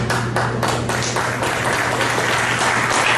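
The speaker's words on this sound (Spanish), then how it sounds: "Es un aplauso para Él" A church congregation applauding, a loud, close burst of many hands clapping with individual claps standing out early, settling into a steady, dense roar.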